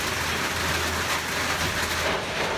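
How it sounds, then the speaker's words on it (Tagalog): Steady rain falls on a roof on a sunny day, a continuous broadband patter with a faint low hum running underneath, no voices. "Umuulan pero may araw mga kaibigan, mga kalingat."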